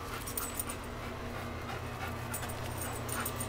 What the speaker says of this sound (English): You can probably hear my dog in the background here.